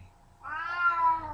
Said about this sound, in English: That's my cat, sorry.